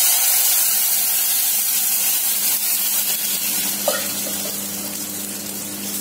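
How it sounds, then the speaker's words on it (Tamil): A steady rush of water pours into a cooking pot over sautéed onions, a broad hiss that continues evenly and close, with a faint clink partway through. "இப்ப தண்ணி ஊத்திக்கலாம்."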